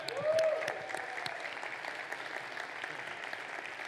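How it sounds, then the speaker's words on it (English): Audience applause at La BitConf, a Bitcoin conference. It is steady and fairly faint, with dense clapping that holds even for the whole stretch and swells slightly at the start. "A big applause."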